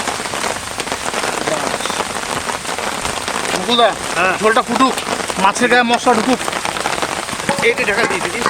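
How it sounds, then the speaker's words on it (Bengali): Steady rain falls on a surface outdoors at a cooking spot where a fish curry simmers, a dense hiss running throughout while people talk over it. "বৃষ্টিটা ঠিক এমন টাইমে হয় যখন আমরা রান্না বান্না প্রায় কমপ্লিট করি তখনই বৃষ্টিটা নামে"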